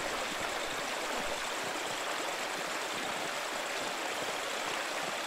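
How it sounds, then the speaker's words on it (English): Steady rushing waterfall from snowmelt pouring down mountains above an abbey in the video game Pentiment, a dense continuous wash of water heard alone at even loudness throughout. "Waterfall must flow down from this snow melting in the mountains above the abbey."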